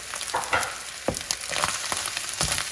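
Fried rice with spices is stirred in a hot pan, giving a close crackling sizzle with rough scraping strokes of the utensil every second or so and no voices.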